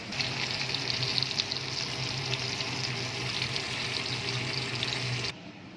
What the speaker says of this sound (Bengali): মাছ অলরেডি আমি ভাজতে শুরু করে দিয়েছি